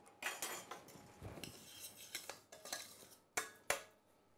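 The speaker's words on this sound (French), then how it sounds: "Fouetter un tout petit peu, juste pour l'aider à se délayer dans l'eau." Metal whisk briskly beating a mixture into water in a bowl, with a scattered run of sharp clinks and scrapes against the sides, several louder taps standing out, close and alone.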